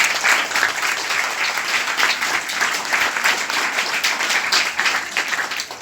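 Students at a government senior secondary school in Gurugram applaud during a yoga meditation event, dense sustained clapping from a crowd of many hands, loud and continuous throughout.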